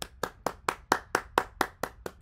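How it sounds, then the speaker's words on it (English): Hands clap in a steady even rhythm, about ten crisp claps close to the microphone with nothing else heard. "I want to see the whole chat clapping right now. Clap it up, chat."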